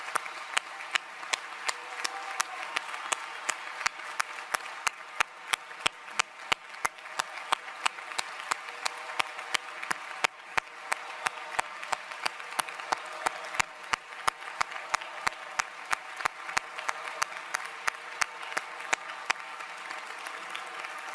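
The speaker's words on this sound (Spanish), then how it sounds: "no dejéis de aplaudir porque os quiero pedir un primer aplauso cerrado" An audience at a closing political rally applauds steadily and at length, with sharp rhythmic unison claps at a distance over a continuous bed of hand clapping and no speech.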